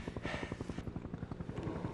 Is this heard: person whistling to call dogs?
no